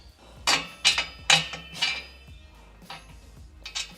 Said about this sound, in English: we're just going to slip these OEM bolts back on